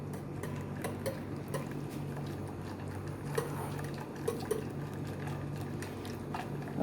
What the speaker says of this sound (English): Use this whisk to mix this into the, just sort of quickly give it a nice whisk